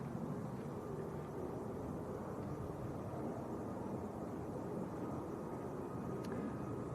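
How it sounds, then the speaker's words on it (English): A Ryanair airliner rolls down the runway for takeoff at Manchester Airport, a steady, muffled jet roar that holds even and distant for the whole stretch. "Ryanair on the roll."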